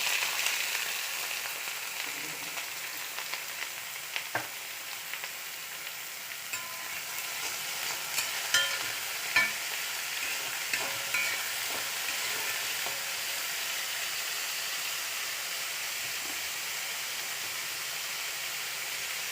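Bitter gourd pieces frying in hot oil with popped mustard seeds and curry leaves, a steady close sizzle with occasional scrapes and clicks of stirring, and no talking.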